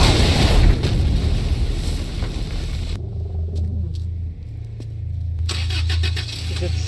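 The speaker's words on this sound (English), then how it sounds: "Snake, do you know how loud a car engine is?" A car engine in Metal Gear Solid V: The Phantom Pain runs as a loud, steady low rumble, dropping to a smoother drone partway through with faint clicks above it and no talk.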